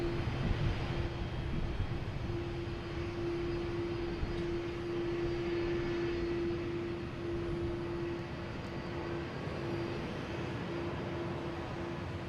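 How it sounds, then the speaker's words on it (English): An Aer Lingus Airbus A330-300 jet passes at Boston Logan Airport with a steady, moderately distant engine roar and a sustained low drone tone, heard alone for the whole stretch. "We got Aer Lingus passing in front of us. They'll be heading to Dublin, an A330-300."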